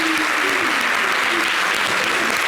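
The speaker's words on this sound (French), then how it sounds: "Applaudissez-moi." Studio audience at a Yvidero Show comedy broadcast claps steadily, a dense, continuous applause filling the whole stretch, with a voice briefly audible underneath.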